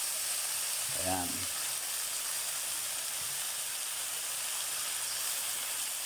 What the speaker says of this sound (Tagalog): Yan po yung talbos ng kamote at isasama na natin sa paggigisa